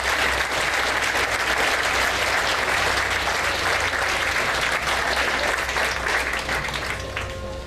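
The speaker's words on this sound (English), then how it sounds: "a resounding round of applause for the newest class" An audience at a 2007 rodeo Hall of Fame induction ceremony gives a sustained, dense round of applause. The clapping stays full and even for several seconds, then tapers slightly at the end.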